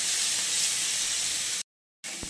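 Onion, garlic and ginger paste sautés for a Katla fish curry, giving a steady close hissing sizzle that cuts out briefly and then resumes.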